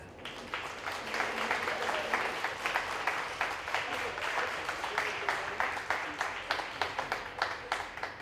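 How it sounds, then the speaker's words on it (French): A cabaret audience at a charity show in Orp-le-Grand applauds a young performer named Marianne. The clapping is sustained and lively and builds into a rhythmic, in-time beat toward the end. "je vous demande d'applaudir Marianne"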